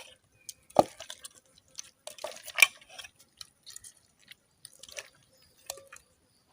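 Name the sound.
squeezing juice from wild mangoes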